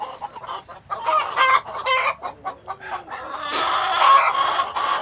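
A flock of about 300 pasture-raised hens clucks and squawks up close in a busy overlapping chorus, with a louder stretch of calls near the end.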